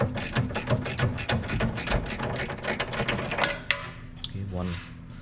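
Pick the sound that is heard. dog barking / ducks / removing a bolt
removing a bolt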